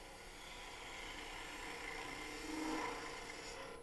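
A turning tool cuts a wooden sphere on a lathe, giving a steady, close rasping scrape that swells briefly near the end.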